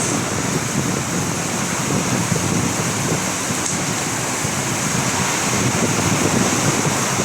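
Heavy rain pouring down in Parañaque, a steady dense roar of water that holds constant for the whole stretch with no voices.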